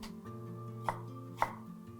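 Fennel and coriander seeds are roughly crushed, giving two sharp pounding knocks about half a second apart over a steady background hum.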